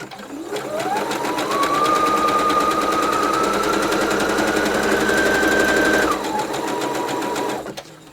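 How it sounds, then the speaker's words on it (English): Sewing machine running a zigzag stitch across the ends of fabric strips, a rapid mechanical chatter that speeds up, holds steady for several seconds, then slows and stops, close and clear with no voices. "we're going to zigzag on each end of the strips"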